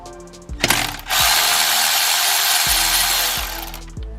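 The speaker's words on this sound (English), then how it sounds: "Now I'm going to remove the 2 nuts for the thickum bracket." A ratchet works loose two 10mm nuts on a bracket of a 6.0L Powerstroke diesel engine in an F250/F350, with a few close ratcheting clicks around a long, loud steady whir, like an air or power ratchet spinning.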